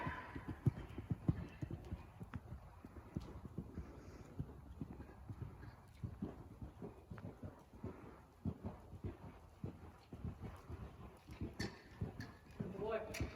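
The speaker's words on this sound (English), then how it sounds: "Now I'm going to stretch him in the canter" A horse cantering in training gives steady rhythmic hoofbeats, close and moderately loud, continuing throughout with a person talking over them at times.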